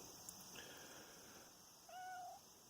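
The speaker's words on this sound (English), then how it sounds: "what do you want, you kitty?" A house cat meows once, a short rising-falling call, fairly close but soft, over a quiet indoor background with a steady high-pitched hum.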